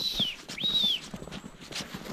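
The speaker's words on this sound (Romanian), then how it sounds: "Stai și fluieri ca nebunul în pădure." A person whistles in a snowy mountain forest in Vrancei, three short rising-and-falling whistle phrases, close and fairly loud over crunching footsteps and faint background noise.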